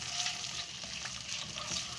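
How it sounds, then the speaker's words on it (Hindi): Ginger, garlic and green chili paste fries in a hot pan with a steady, close sizzle and crackle, plus light stirring sounds throughout. "अदरक लहसुन और हरी मिर्ची का पेस्ट शामिल करके इसको थोड़ा सा आपने भून लिया"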